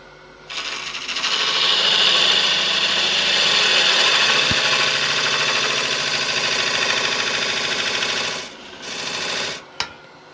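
A modified skew chisel cuts Balinese teak spinning on a wood lathe, a loud sustained rasping whir with steady texture, close by, pausing near the end before a short second cut and a sharp knock.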